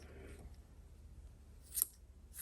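Scissors trim machine-knitted yarn with a couple of crisp, faint snips spaced apart, set against quiet room noise.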